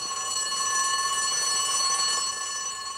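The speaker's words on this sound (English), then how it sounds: "Quick burst of the assembly bell." A cartoon fire station assembly bell rings in a quick continuous burst, a bright electric metallic clang sustained steadily and loud for about three seconds, alone without voices.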